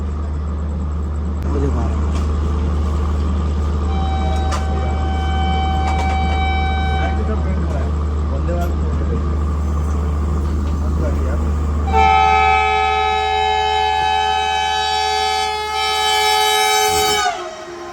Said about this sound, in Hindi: तो दोस्तों देख सकते हैं सामने वंदे भारत आ रही है, Varanasi new Delhi India fastest train.